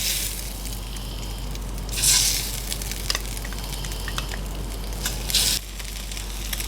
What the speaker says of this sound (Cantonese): 咁我哋細火煎，因為咧呢個蝦咧好大隻嘅